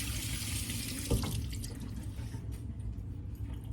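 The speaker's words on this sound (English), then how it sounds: "Get all this off my hands. Let me wash these off." Tap water runs steadily into a kitchen sink while hands are rinsed, a continuous splashing hiss with one brief louder splash near the start, heard alone without talk.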